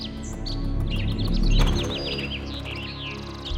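Sparrow chirping at a nest in a tree, a run of quick, bright tweets and short calls that come close and steady over a low background rumble, with no voices.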